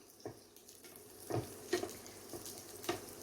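Garlic fries gently in a pan to a light brown, giving a faint low sizzle under a few soft scrapes and taps from stirring.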